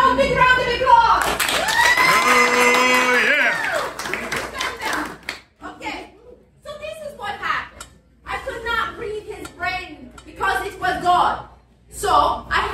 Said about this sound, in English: Everybody give the owl a big round of applause.